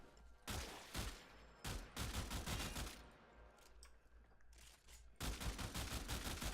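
Burston rifle firing in the video game Warframe: rapid bursts of sharp gunshots in repeated volleys separated by brief pauses, close and punchy, with no voices.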